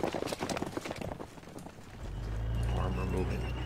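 Cavalry horses clip-clopping in the Panzer Campaigns Orel 43 war game: a quick run of close hoof clops for about two seconds, then giving way to a low steady rumble.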